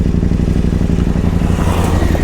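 A Moto Guzzi motorcycle with a roughly 800cc twin engine, ridden on a Texas river-crossing loop, rumbles loudly and close with a steady throbbing exhaust that holds throughout.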